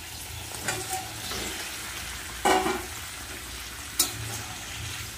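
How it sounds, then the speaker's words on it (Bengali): Spiced gravy bubbles vigorously in a pan as paneer and green plantain kofta go in, a steady sizzle punctuated by a few sharp clinks and stirring knocks. "ঝোল কিন্তু টকবক করে ফুটছে"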